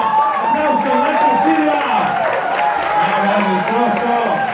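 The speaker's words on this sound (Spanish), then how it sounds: "¡Aplauso, Nacho Silva!" Audience at a live Spanish-language show applauding and cheering for a performer, a steady dense wash of claps and crowd noise with voices mixed in throughout.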